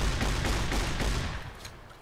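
A SPAS-15 shotgun firing rapidly in Fallout: New Vegas, a dense burst of loud booming blasts in quick succession that tails off toward the end.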